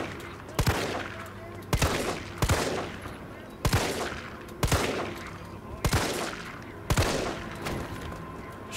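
Gunfire in the Resident Evil 3 Remake video game, a series of seven evenly spaced, punchy shots about a second apart, each with a short reverberant tail, over a steady game background.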